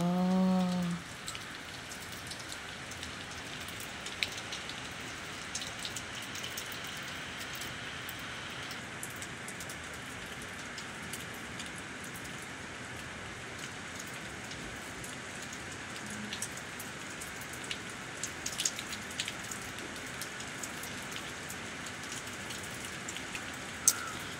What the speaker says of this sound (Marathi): खूप खूप एकदम मुसळधारीसारखा पाऊस आहे